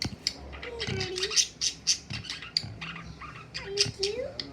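A pet parrot, a young male, squawks in short sharp bursts, several close squeaky calls spaced over a few seconds, with a quiet voice speaking in between.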